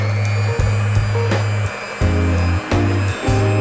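A dessert mixture with sugar churned by an electric mixer, a loud close motor hum that cuts in and out in short bursts with brief pauses between.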